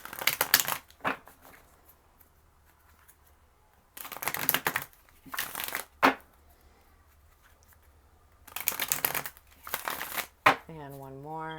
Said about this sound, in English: We're going to do 4 more shuffles